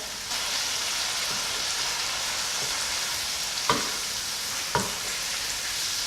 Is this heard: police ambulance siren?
no